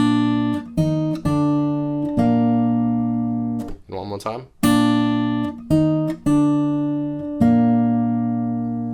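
Fingerstyle acoustic guitar picks out a section of the Game of Thrones theme, ringing plucked notes and paired string hits with a brief strummed flourish in the middle, close and clear, with a short spoken line.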